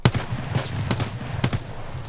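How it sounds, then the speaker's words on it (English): Escape from Tarkov machine gun fire crackles in a few short, sharp bursts spaced across the moment, loud against a low background rumble. "That's the machine gun, right?"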